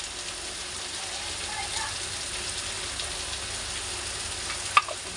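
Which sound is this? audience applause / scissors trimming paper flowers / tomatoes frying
tomatoes frying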